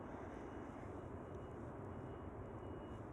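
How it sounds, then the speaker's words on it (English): At Schiphol, an Airbus A340 of USC Airlines flying for Suriname Airways passes as a faint, even engine rumble. The sound is broadband and far off, steady throughout, with no talk. "there is the Airbus A340, USC Airlines, flying for Suriname Airways."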